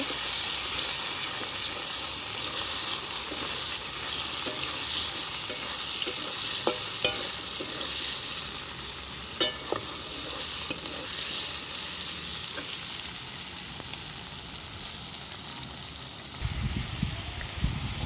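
Potatoes fry in white oil in a wok, frying until reddish-brown, and give a continuous loud sizzle and hiss with occasional stirring scrapes and pops, steady throughout and close by.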